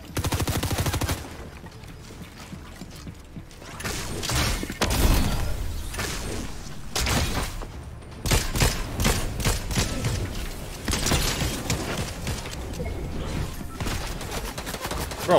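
Rapid gunfire in the video game Fortnite, repeated bursts of loud close shots with short pauses between volleys and a brief lull early on.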